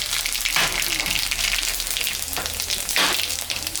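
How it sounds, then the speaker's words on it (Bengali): Dry red chillies, white cumin and nigella hit hot oil left from frying fish, giving a close, continuous sizzle that flares in several bursts as the spices crackle. "মাছ ভাজা তেলের উপরে শুকনো লঙ্কা, সাদা জিরা, কালো জিরা, সম্বরা দিয়ে দিলাম।"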